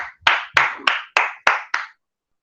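Six sharp, evenly spaced hand claps ring out close and loud in an online class, each with a short decay, then stop.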